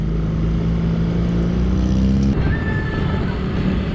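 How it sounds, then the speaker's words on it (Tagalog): A Yamaha NMAX scooter engine runs steadily and loudly close by, a continuous low motor drone with wind rush throughout and a brief shift in tone midway. "pero mas tahimik yung makina nito kesa sa version 1"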